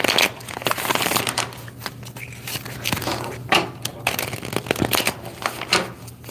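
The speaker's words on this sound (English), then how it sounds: "And then I shuffle again." A deck of tarot cards is shuffled close up, giving crisp riffling, flicking and snapping card noises in quick irregular bursts, with no talk over them.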